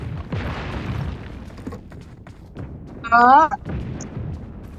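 Gunfire and booming explosions in the battle-royale video game BGMI rumble steadily under voices chatting, with a brief higher warbling effect partway through.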